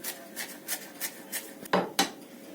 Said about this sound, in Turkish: maydanozumu ince ince kıyıyorum ince ince kıyacağım maydanozu